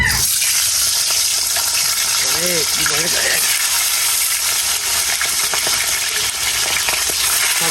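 Pitha batter and an egg frying in hot oil give a steady, loud, hissing sizzle that runs the whole time, with a brief voice heard partway through.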